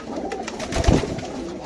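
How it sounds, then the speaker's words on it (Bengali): Pigeons, kept for racing, coo close by in a soft, low, throaty burble that swells once in the middle of the brief moment. "এরা এখানে সরে বসে কুকু করতেছে"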